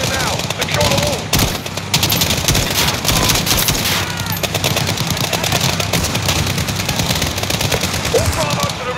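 Sustained loud gunfire during an embassy mission in a video game, rapid machine-gun bursts and rifle shots overlapping continuously, with radio-style voices calling out over the shooting.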